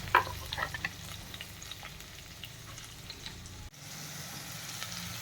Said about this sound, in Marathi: तेल छान तापलेलं आहे मोहरी टाकते त्यानंतर थोडंसं हिंग आणि त्या सुरुवातीला कांदा परतून घ्यायचा आहे